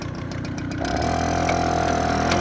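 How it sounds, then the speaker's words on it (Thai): A small old Japanese Honda 3.5 hp two-stroke lawn mower engine idling close by, a steady buzzing drone that settles into an even, smooth running note. "เครื่องยนต์สองจังหวะนะตัวนี้นิ่ม ๆเลยเห็นไหมเครื่อง"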